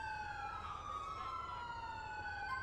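Police sirens in the LCPD:FR mod featuring a 2015 Tahoe K9 unit, a steady wailing electronic siren tone rising and falling continuously, fairly faint over low engine rumble.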